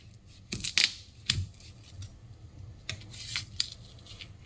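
A knife cuts through a store-bought sweet potato in a home setting, giving a few short, crisp slicing clicks and taps, close and fairly quiet, with no talking.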